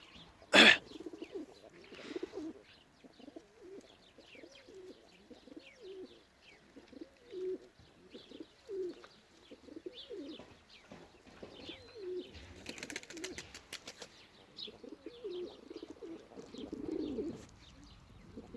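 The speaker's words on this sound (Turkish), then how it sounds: "Bahçedeki damızlık yani uçum damızlık kümesindeki damızlık kuşları çıkarttım." Breeding pigeons in a garden coop coo softly and repeatedly in a steady rhythm, with a sharp close knock near the start, a brief flutter of wings and occasional faint chirps in the background.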